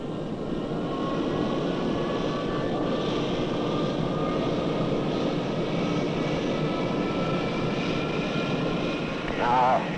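Concorde 002 supersonic airliner taxiing for its first flight, its engines giving a loud, steady roar with a rising whine that holds throughout, and a voice talks over it.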